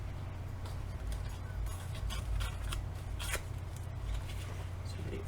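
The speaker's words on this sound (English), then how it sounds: "we'll cut down a piece of paper." Scissors snip through a sheet of paper being trimmed for an album journal page, a few soft crisp cuts with light rustling, close and fairly quiet.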